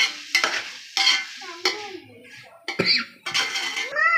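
Prawns sizzle in a frying pan for biryani while being stirred, with repeated metal scrapes of the spatula against the pan in separate strokes over a close, steady frying hiss.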